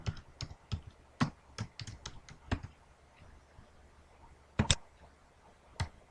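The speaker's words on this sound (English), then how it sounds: "so I can just type in my information here." Typing on a computer keyboard while setting up a Linux Mint installation, with irregular bursts of close, crisp key clicks and a few louder taps separated by short pauses, fairly quiet overall and without talk.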